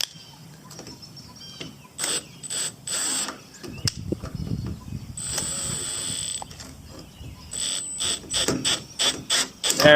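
Stainless screw driven slowly into an aluminum mast, re-threading the hole, giving bursts of clicking, ratchet-like mechanical noise in uneven spurts with pauses between.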